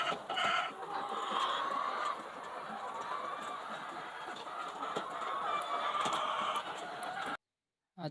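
Hens clucking in a poultry house where eggs are collected, a busy chorus of close and distant clucks over a steady hum, cutting to silence near the end.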